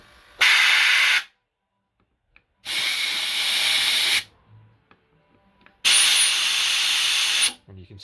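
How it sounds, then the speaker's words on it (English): Compressed air blasted through a Keihin CV carburettor from a 1985 Kawasaki GPZ600R barn-find restoration; three loud, close hissing bursts, each about one to two seconds long, separated by near-silent pauses. "So put the air through it."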